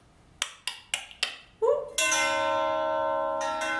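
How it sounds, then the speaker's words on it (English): A doorbell chimes indoors: a few sharp clicks, then a rising tone and a bright ringing chime that sustains and slowly fades. "rang the doorbell"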